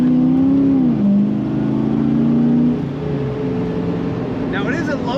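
A 1981 Chevrolet Camaro Z28 with T-Tops revs its engine, a loud rising then falling whine that settles into a steady idle hum, with a voice talking over it.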